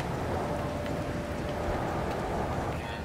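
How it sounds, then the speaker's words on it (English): Steady rain in the No Man's Sky video game, a dense continuous wash of patter heard alone at even loudness throughout. "crap, it's raining, isn't it?"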